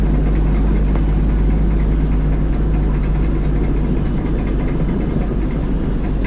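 A car engine running steadily as Tito drives, a continuous low drone and road rumble heard from inside the moving car, with no break in the sound.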